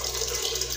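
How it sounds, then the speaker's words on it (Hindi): Water streams steadily into a cooking pot of spiced dal masala being prepared for mehndi-style degi dal chawal, a continuous close hissing pour with no talk over it. "तो अब हम इसमें डालेंगे पानी"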